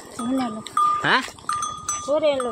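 A goat bleats a few times at close range in a village setting, short wavering calls separated by pauses, with a tonal clank like a bell between them.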